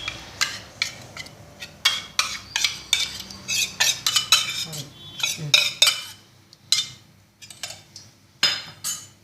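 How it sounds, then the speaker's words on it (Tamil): Maida flour, a pinch of salt and soaked semolina being mixed by hand for sweet somas, heard as a run of soft, irregular scraping and clinking strokes against a bowl, close and fairly quiet, with no talking. "இதை நல்லா மிக்ஸ் பண்ணிவிட்டு"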